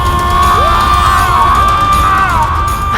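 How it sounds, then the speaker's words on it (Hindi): A loud, anguished scream from a Ramayana devotional drama, a sustained wailing cry that bends in pitch over a dense layer of crowd-like shouting and music, continuous and overwhelming throughout. "ये किसकी पुकार है? पुकार नहीं, चीख है"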